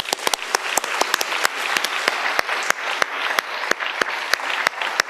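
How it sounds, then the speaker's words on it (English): Conference audience at a general assembly in Sarajevo applauding a newly elected chair, a steady wash of clapping with sharp individual claps standing out close by, continuing evenly throughout. "let's give Eva a full applause at the very start of her"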